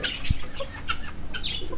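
Golden Buff and Brahma chickens cluck softly and intermittently nearby while feeding, with short irregular calls over a low background rustle.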